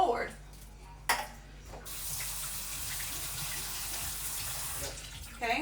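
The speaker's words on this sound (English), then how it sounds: "so my beans are rinsed, and I just use this little guy to rinse them really easy" Running tap water rinsing canned beans, a steady splashing stream in a sink with a couple of clunks at the start and end.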